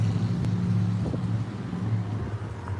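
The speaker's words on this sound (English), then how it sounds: "this truck is revving his engine" A truck engine idles and revs in a steady low rumble, close by, with a brief rise in pitch midway and no talking over it.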